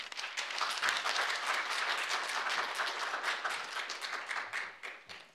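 An audience welcomes speaker Holly Roberts at a painting department lecture with a steady wash of applause, full and sustained before thinning toward the end.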